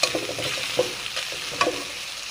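Onion, garlic and green chili frying in a pan for a fish curry with green banana, an even close sizzle broken by a few knocks and scrapes of stirring.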